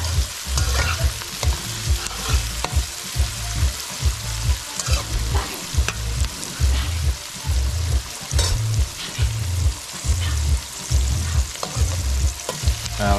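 Seasoning fries and sizzles hard in a pot for Guyanese ground provisions, with a rhythmic, repeated stirring scrape about every second over the continuous loud hiss.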